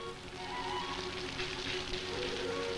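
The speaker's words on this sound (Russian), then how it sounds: "Можно укрыться от дождя." Rain falling in an outdoor scene from a 1957 Soviet comedy film, a soft, steady patter under a faint tonal hum.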